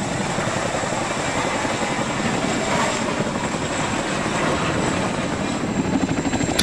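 A military helicopter in a combat video game drones with steady rotor thumping and turbine whine, loud and continuous throughout, with no talk over it.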